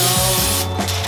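Cooking spray hissing onto aluminium foil in a home kitchen while making chicken spaghetti, a steady close spray lasting about a second with faint clicks and hums beneath.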